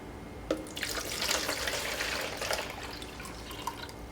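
Roughly one litre of water poured from a beaker into a container, giving a steady splashing, gurgling pour for about three and a half seconds at close range with no talk.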